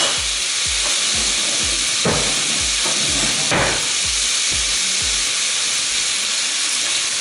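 Sizzle steak frying in a hot pan, a steady loud hiss and crackle with occasional low thumps and stirring bumps, close up and continuous with no talking.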